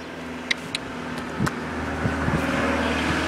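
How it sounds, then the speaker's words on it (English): A car passes along a road beside a free-running route on the way to a Tesco Express, a soft engine and tyre rumble that builds gradually over faint background clicks and knocks, with no talk. "There's a car coming."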